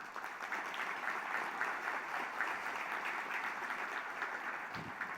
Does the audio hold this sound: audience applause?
yes